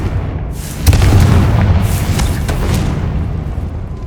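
A Confringo fire spell explosion in Hogwarts Legacy: a loud, deep boom bursts out and rolls on as a sustained rumble with a few crackling pops, no talking.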